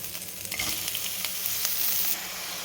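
Ridge gourd hits a hot pan for a tomato curry and is stirred, a dense bright sizzle with a few scraping strokes of the spoon, close and steady throughout.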